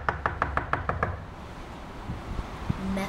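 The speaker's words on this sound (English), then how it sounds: "I'm knocking with all my might and power." A quick series of about eight firm knocks on a door in the first second, followed by faint wind noise and a few scattered thumps.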